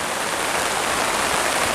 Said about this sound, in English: Rain and more rain.